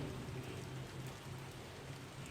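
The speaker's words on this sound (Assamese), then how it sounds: "ইমান বৰষুণ অন্ততঃ অকণমান ৰ'দ দে কাপোৰখিনি শুকাবলৈ।" Heavy rain falling steadily as a soft, continuous wash of hiss, fairly quiet and even throughout, with no voices.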